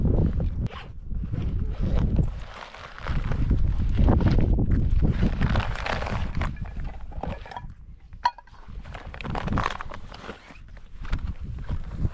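A backpacking bag is unzipped and unpacked outdoors on Tregonning Hill in Cornwall, with repeated zipper rasps, fabric rustling and rummaging, punctuated by a sharp click, under light wind.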